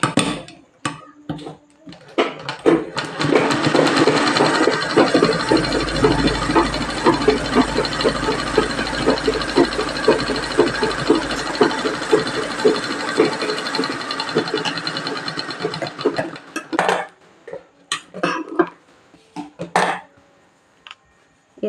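A sewing machine stitching a frock for a six-year-old girl runs with a steady mechanical whir and fast rhythmic ticking for about thirteen seconds, then stops, leaving a few scattered clicks.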